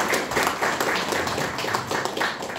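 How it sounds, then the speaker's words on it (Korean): Audience applause at the launch of a political forum at the National Assembly in Seoul, a dense burst of clapping from a gathered crowd, fairly loud and steady with no speech over it. "여러분 박수 부탁드리겠습니다"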